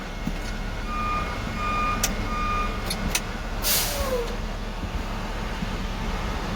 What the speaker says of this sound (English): Our backup alarm.